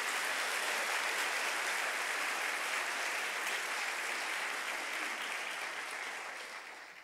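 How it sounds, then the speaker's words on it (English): A large audience applauds sponsors at a school honors recognition ceremony, a full continuous wash of clapping in a big hall that holds steady and then fades slightly at the end. "Let's give all of these sponsors a round of applause"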